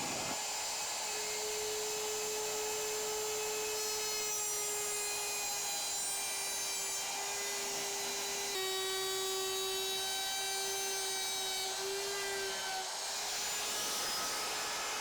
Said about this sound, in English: a rabbiting bit in the router set to the thickness of my 1/4 inch back material, I want to secure my project to the table and make my first cut